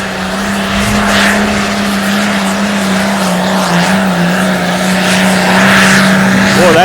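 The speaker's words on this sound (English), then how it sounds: "Boy, that is a sharp tractor, Fred" Tractor at a light limited pro stock pulling competition in Rock Valley, its engine roaring loud and steady throughout, holding a sustained droning pitch that rises slightly toward the end.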